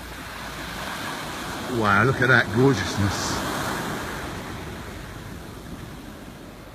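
Gentle sea waves wash steadily onto the beach at Jaywick Sands near Clacton-on-Sea at sunset, a soft continuous surf hiss, with someone briefly speaking over it.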